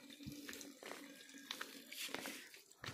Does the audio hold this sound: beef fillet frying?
no